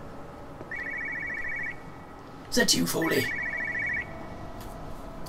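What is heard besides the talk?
telephone ringing in video game Everybody's Gone to the Rapture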